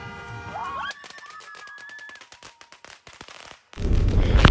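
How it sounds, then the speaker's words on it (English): Fireworks on Pakistan's Independence Day: a whistling rocket climbs, then a run of sharp crackling pops, and a loud rumbling blast closes it. "We also launched some fireworks into the sky"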